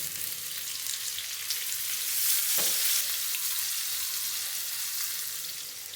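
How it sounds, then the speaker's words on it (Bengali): Chopped onion sizzles in ghee with crushed cardamom, cinnamon and whole cumin, a bright steady frying hiss that swells briefly as it is stirred, with no voices. "পেঁয়াজ কুচি দিয়ে দিলাম।"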